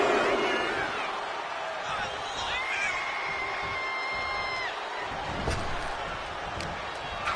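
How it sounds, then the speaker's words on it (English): Arena crowd reacting during a WWE 2K26 wrestling match, a continuous roar with rising cheers and some thuds, steady and broad, under commentary talk. "Naomi drawing a big reaction from this crowd."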